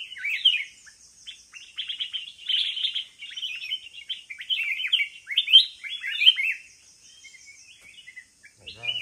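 A wild bird chirps in a forest, giving quick bursts of high, bright tweets that repeat steadily over several seconds, close and clear against a quiet background, with a short low thump at the very end.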